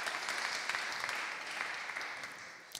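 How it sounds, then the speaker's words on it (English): A crowd applauding, a steady wash of many hands clapping at moderate distance, fading slightly toward the end. "A big applause for you as well"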